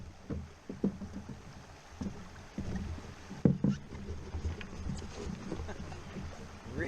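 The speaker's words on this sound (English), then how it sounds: "Rickety old canoe" An old, rickety canoe knocks and creaks on the water in the wilderness of Algonquin Park, with hollow paddle clunks and small splashes in an uneven rhythm, close by, while people move and talk quietly.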